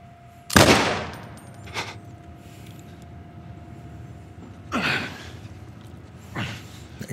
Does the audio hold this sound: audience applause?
no